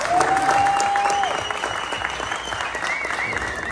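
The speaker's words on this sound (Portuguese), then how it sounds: "Salva de palmas aqui para o Ademáfia." A live audience at a skateboarding community talk applauds a guest, a dense, steady wash of clapping that stays full throughout, with a brief whistle-like tone near the start.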